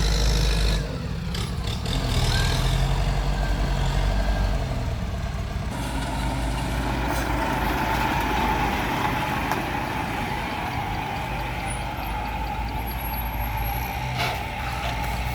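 Two Kubota 70 hp tractors run their engines together, a steady rumbling drone with mechanical clatter that carries on throughout, fairly loud and close.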